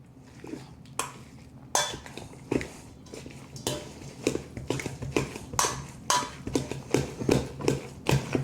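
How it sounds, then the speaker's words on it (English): Seasoned potato filling being mashed with cowboy butter in a bowl: a steady run of close clinks and scrapes of a utensil against the bowl, with soft squishy pressing between strikes. "And mix it. I'm going to mash it."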